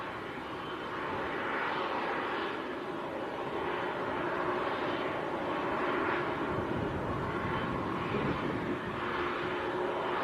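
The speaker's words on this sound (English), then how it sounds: "Also just touching down is Norwegian." A Norwegian airliner touches down at Manchester airport, giving a broad, rushing jet roar that swells and pulses slightly. It is heard at moderate distance and continuous, with no voices.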